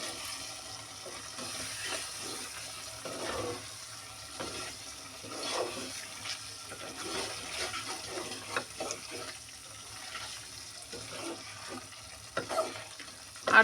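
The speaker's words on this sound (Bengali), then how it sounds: "মাংসটা দিয়ে ভালো করে নাড়ি চাড়িয়ে নিতে হবে" Duck meat being stirred in a cooking pot for a mixed-lentil dal, with soft scraping and faint sizzling running steadily at low volume and a few sharper clinks near the end.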